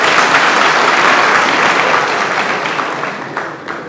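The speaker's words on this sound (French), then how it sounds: "Les applaudissements sont pour Smokey." Sustained audience applause fills a lecture hall on democracy, a dense, steady wash of clapping from a large crowd that holds loud and then slowly thins toward the end.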